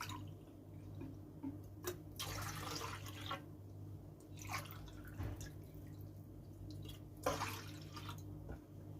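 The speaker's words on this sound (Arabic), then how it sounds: "هننزل بعد كده بالميه الساقعه، كوبايتين ميه متلجه" Two cups of iced water are poured into a gelatin and sugar mixture, giving short splashing and trickling bursts against a steady low hum, fairly quiet and without talk.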